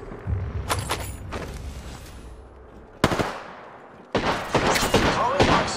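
Enemy gunfire in a video game: a few loud, sharp shots and short bursts with crackling decay, the last burst denser and sustained.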